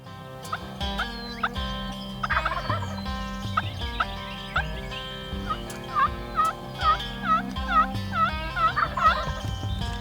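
A wild turkey gobbler on the roost gives a run of repeated rattling gobbles, growing more frequent toward the end. The gobbles sit over a steady musical bed.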